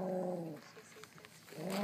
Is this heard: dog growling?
yes